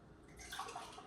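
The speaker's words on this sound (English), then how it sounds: "You want to hear that water boiling right away as soon as you put it" Water poured into a hot pot on a stove at maximum heat for cooking rice, a soft splashing hiss with gurgling that builds midway, heard close and alone.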